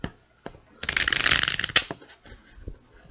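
A deck of tarot cards is riffled in one quick, crisp shuffle of about a second, close up, set between a few soft handling taps and clicks.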